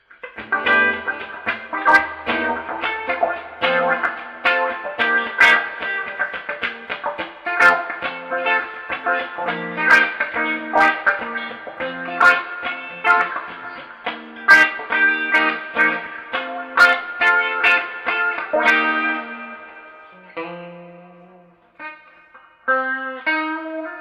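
Electric guitar played through a Clyde wah pedal on its shaft setting into a Fender amp, with a steady run of chords and notes and a sweeping, vocal filter, heard alone and close before it thins to a few sparse ringing notes.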